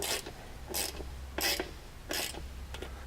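A ratchet snugs down a bolt on a mounting plate during a Honda Talon install, giving four short bursts of rapid clicking at a steady rhythm, close and moderately loud, with no talking.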